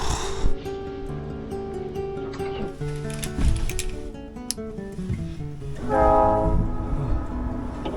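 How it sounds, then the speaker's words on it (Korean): A train rumbles past with a loud horn blast blaring over the rolling noise, the horn swelling again near the end, heard near a cliffside lodge in Peru. "기차 소리다."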